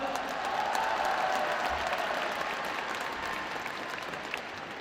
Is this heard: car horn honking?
no